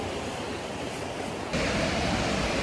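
A clear creek along the Appalachian Trail in winter rushes steadily as a broad hiss of flowing water, getting abruptly louder and fuller partway through.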